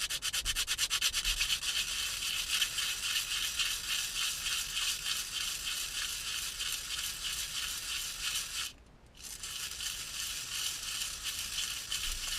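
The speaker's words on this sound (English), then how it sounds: "is actually a little piece of sandpaper. And what you're supposed to do is rough this up a little bit so that the glue has something to stick to." Sandpaper roughs up the rear view mirror mount on a 1996 Chevy S-10, a steady close rasping rub that continues evenly, with a brief pause near the end before resuming.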